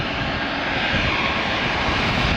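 Steady, loud roar of an American Airlines jet airliner's engines at Atlanta airport, a broad continuous rumble holding at the same level throughout with no voices over it.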